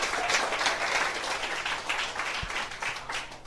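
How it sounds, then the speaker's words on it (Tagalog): An indoor audience at a business seminar claps continuously, a dense, even wash of applause with no voices standing out. "dapat nilalakasan yung palakpak nyo"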